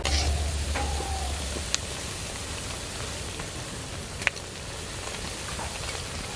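Bengali dal and curd gujiya dumplings frying in hot oil, a steady even sizzle with a couple of sharp pops, moderately close and uninterrupted by talk.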